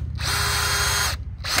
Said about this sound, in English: We're just gonna drill